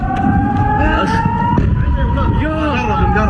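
An air raid warning siren wails in Tel Aviv, Israel, during an Iranian missile attack, a loud sustained tone with shifting pitch. Voices talk over it.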